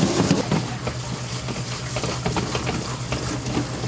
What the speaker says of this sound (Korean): 아내의 잔소리에 병철 씨 헌 냄비를 부여잡고 새 냄비를 만들 참이다.